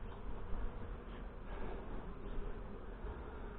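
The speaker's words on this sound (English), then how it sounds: "there's a lot of bees on the bottom of that" Dense, continuous buzzing of many honey bees close by at a hive during an inspection, a steady droning hum with slight swells.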